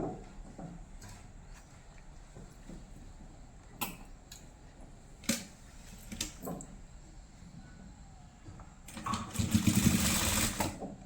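A sewing machine stitches thread piping onto a blouse, its steady mechanical whir running under scattered clicks and handling knocks, then swelling into a louder, faster burst of stitching near the end.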